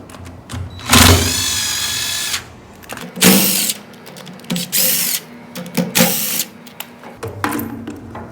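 A power tool backs out four 5/16 Allen bolts on a brush cutter's motor housing during seal work, heard as several short whirring bursts with pauses and clanks between them.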